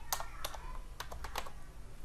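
Keys tapped on a computer keyboard while entering an Excel formula, a handful of quick, light clicks spread irregularly over two seconds against a steady low background hum.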